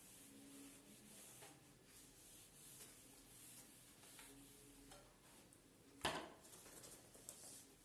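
Faint, continuous rubbing and scrubbing as writing is wiped off a board in a quiet classroom, with a brief sharper knock or squeak partway through.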